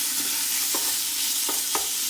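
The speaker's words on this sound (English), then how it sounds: "you want to get this bacon nice and fried up" Bacon fries in a pot for a soup, giving a steady hiss and crackle with a few brief stirring scrapes, close and fairly loud.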